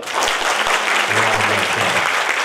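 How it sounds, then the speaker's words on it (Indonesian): Loud, sustained applause from a crowd of students and guests at an Islamic boarding school graduation ceremony in Makassar, a dense continuous clatter with some low hum beneath. "Boleh minta tepuk tangan dulu?"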